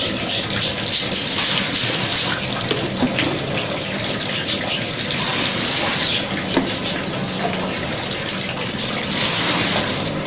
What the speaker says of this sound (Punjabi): ਗਰਮ ਪਾਣੀ ਇਧਰ ਲੈਦਾ ਕੱਢੀ ਜਾਵਾਂਗੇ